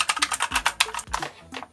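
Quick bursts of sharp, clicky keystrokes on a mechanical computer keyboard, close and crisp, coming in a short uneven flurry with brief pauses between presses.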